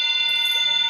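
Chimes being struck, bright sustained metallic tones ringing together and fading slowly, loud and close with no talk over them.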